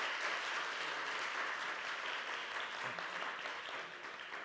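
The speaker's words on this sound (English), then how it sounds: "Give him a round of applause." An audience applauds a volunteer during a keynote on 3D audio, a sustained, dense wash of clapping from a full hall, steady in level and slowly tapering at the end.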